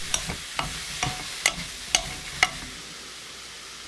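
Mushrooms stir-frying in a pan with soup soy sauce added, giving a soft sizzle broken by sharp scraping and tapping strokes of a utensil about every half second, up close with no talking.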